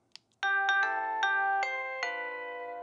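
Google Nest Doorbell 3rd Gen playing its Happy Birthday chime: a bright, close electronic bell melody of six ringing tonal notes, each sustaining and overlapping as the tune steps along, alone with no talking.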